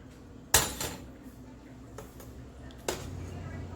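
Pots and utensils clank while homemade chicken soup is served, with two sharp metallic knocks and a few softer clinks amid a quiet kitchen and low talk.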